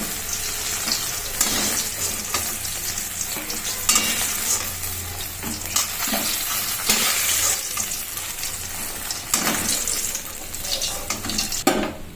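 Eggplant sizzling in a pan of oil in a home kitchen, a continuous loud frying hiss broken by repeated stirring scrapes and bursts of spattering.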